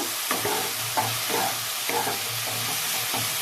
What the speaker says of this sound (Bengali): তো আমার মশলাও ভাজা হয়ে গেছে,